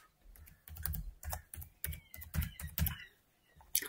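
Fingers type a phone number on a computer keyboard while logging into Telegram on a PC, giving a quick, uneven run of close, crisp key clicks with short pauses and no talking.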